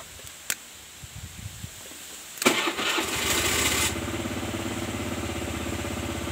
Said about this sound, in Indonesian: kita tekan, kita hidupkan mesinnya